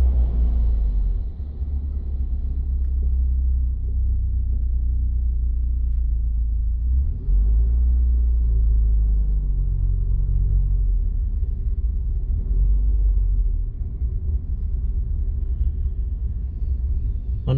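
Road traffic passes along a route near Wallyford, Musselburgh and Portobello, including a bus to North Berwick, a constant low rumble of engines and tyres that swells as vehicles go by, heard close and with no talk.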